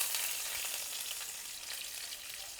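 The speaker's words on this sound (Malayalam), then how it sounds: "ഓയിൽ ഒഴിച്ച് കൊടുത്തേ ഒരു ചൂടായിട്ട് നമുക്ക് കടുക് പൊട്ടിക്കാം. കടുക് ഇട്ട് കൊടുക്കുക, ചെറിയ ഉള്ളി ഇട്ട് കൊടുക്കുക" Mustard seeds and shallots spluttering in hot oil, a bright continuous crackle with scattered pops that stays fairly loud and close, slowly easing off slightly.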